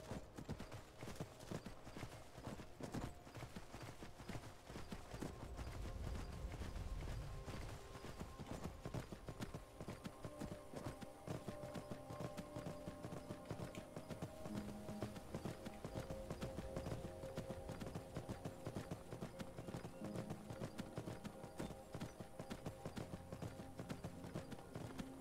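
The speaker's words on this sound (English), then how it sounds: "let's hope I can get this horse back without it getting killed" Hooves clip-clop at a steady gait as a horse is ridden in modded Skyrim Special Edition, a faint continuous rhythm under game ambience with no talking.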